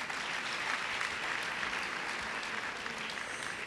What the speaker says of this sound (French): Voilà pourquoi on doit encore les applaudir.